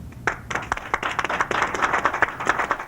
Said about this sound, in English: notice the chairman begins the applause